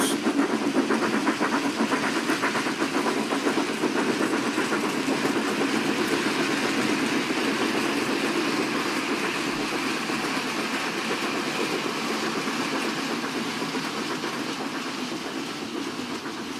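A model railway steam locomotive hauling a string of tank wagons rolls past a signal box, giving a steady, continuous rumble and rail clatter at even loudness throughout, with no voices.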